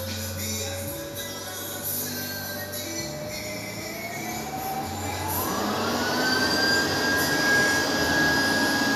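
A stove burning waste oil roars with a steady blowtorch-like rush of flame. A rising whine swells as the flame is turned up, and the burner stays loud and continuous throughout.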